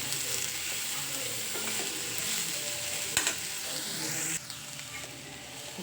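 Masala sizzles steadily in a hot pan while paneer masala is being made, a continuous close hiss of frying with a brief stir or clatter partway through and a slight drop in level near the end.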